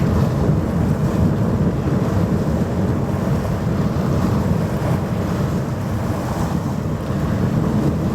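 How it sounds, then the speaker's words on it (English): Waiheke ferry out on Auckland's Waitemata Harbour with waves, a steady low rumbling wash of water and engine drone under gusty wind noise, continuous and moderately loud with no talking. "That will be the Waiheke ferry."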